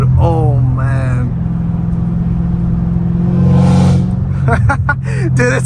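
A Dodge Hellcat Redeye of about 800 horsepower with a modified exhaust rumbles loudly in traffic, its engine note rising in revs. Voices talk over the heavy, continuous drone.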